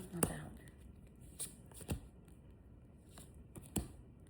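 Tarot cards being shuffled and handled close by, soft riffles and several sharp card slaps spaced irregularly over a quiet background, faint and intimate.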